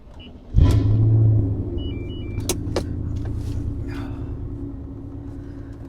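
A 2001 BMW M5 Dinan S2 engine cranks and fires, catching with a sudden loud roar that settles into a steady rumbling idle, heard close with a few clicks and chimes around it.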